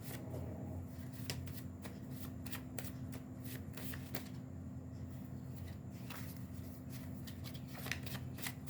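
Handmade tarot cards are shuffled close up, a quiet run of soft papery riffles and flicks repeating steadily against faint background hum.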